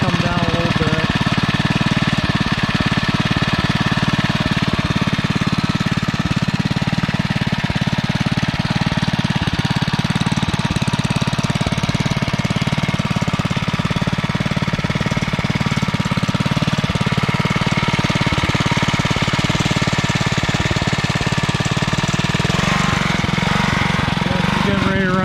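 A REO trike engine runs continuously at a loud, close, rough idle with a knocking, chugging throb, left running until it runs out of gas, with no break or fade in the sound.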